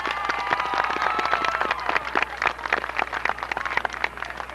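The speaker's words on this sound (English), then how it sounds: "Could we hear a round of applause for all the seniors in the band and the flag?" A crowd at a 1993 high school football game claps for the band seniors and flag members, a continuous patter of applause with no voices above it.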